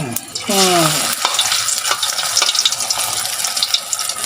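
Kangkong (water spinach) hits hot oil in a pan and bursts into a loud, steady crackling sizzle that carries on with busy spattering pops, heard up close with no speech.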